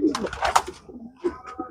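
Racer pigeons of the cotton (kapus) breed, eight-month-old home-kept birds in a loft at Pirangut, coo in low soft bursts close by, with faint voices mixed in.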